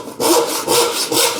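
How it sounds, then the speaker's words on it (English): A hand saw cuts through wood in three steady, close, loud strokes, each a rasping push with brief pauses between, with no talking. "that last bit of saw cut that you haven't done yet will just break off"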